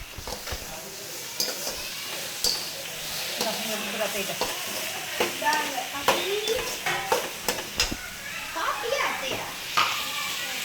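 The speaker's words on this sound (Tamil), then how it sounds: "இப்போ அடுத்தது வெட்டி வச்ச டொமேட்டோவை போடணும்." Chopped tomatoes fry in a pan in an outdoor village kitchen, a steady close sizzle broken by repeated scraping stirs and clinks, with children and other voices chattering in the background.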